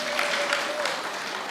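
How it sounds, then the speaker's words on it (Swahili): Crowd applause at a political rally in Mount Kenya, a short dense burst of many hands clapping that sounds steady and moderately loud throughout. "Pigeni makofi."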